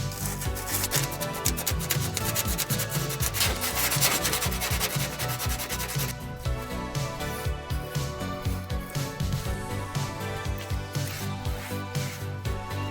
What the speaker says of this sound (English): now that our holes are all cleaned up, sanded nicely